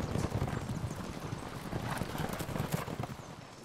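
Horses' hooves clip-clop in a dense, irregular patter, several animals moving together at close range over steady background rumble, with no talk.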